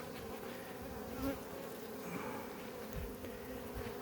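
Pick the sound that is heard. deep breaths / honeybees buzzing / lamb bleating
honeybees buzzing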